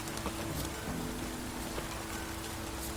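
Rain falls in The Witcher 3, a soft, steady patter of drops on surfaces heard quietly throughout, with faint scattered ticks and a low hum beneath.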